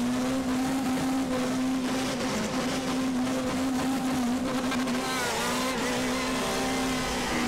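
Citroën touring cars roar together at a race start in the RaceRoom game's WTCC 2014 Macau round, a steady dense engine drone with a sustained low tone and a buzzing field of other cars, close and continuous.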